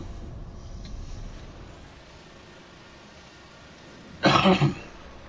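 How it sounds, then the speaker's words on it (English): A short burst of coughing, close and sharp, breaks a quiet hiss near the end; otherwise only low background noise. "every once in a while you just have to cough"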